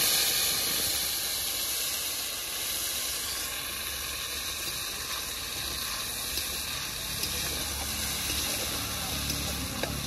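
Dry red chilli paste with ginger and cumin hits hot oil tempered with nigella seeds and bay leaves, giving a loud continuous hiss and sizzle that eases slightly midway.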